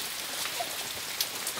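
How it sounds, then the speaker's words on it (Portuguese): Heavy rain falls steadily on a farm, a dense, even hiss with scattered close drops and patters throughout. "Chuva tá demais."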